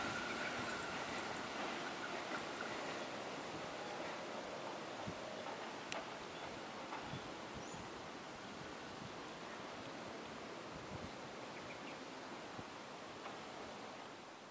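A series 141 commuter electric train runs near Serpong station, making a faint, steady rumble and hiss with a few scattered clanks throughout.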